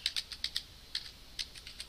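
Quick keystrokes on a computer keyboard typing localhost into a browser address bar, a close, quiet burst of about a dozen crisp clicks in uneven clusters.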